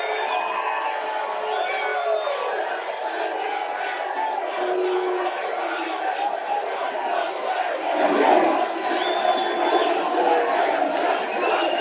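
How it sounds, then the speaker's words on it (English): Large crowd at the Libertarian National Convention chanting Trump's name with booing mixed in, a dense, steady roar of many voices at moderate distance that swells louder near the end. "There were some people chanting his name"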